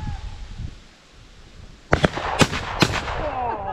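Shotgun blasts during a pheasant hunt on a Michigan game farm: three sharp, loud reports in fairly quick succession, preceded by a quiet outdoor stretch, with faint talk nearby.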